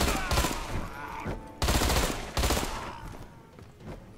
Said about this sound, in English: they modeled this rare. Extremely rare. Rifle.